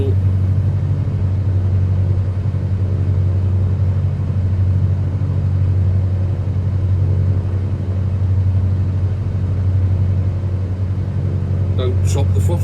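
Steady, loud engine drone of a Cessna 182 RG in a flight simulator, a constant low hum throughout with no change in pitch, and a brief click near the end.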